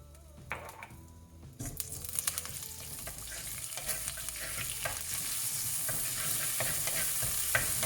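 Curry leaves and pandan leaves fry and sizzle in hot coconut oil for a Sri Lankan chicken curry, with a steady close crackle that swells and stays loud, punctuated by stirring clatter near the start.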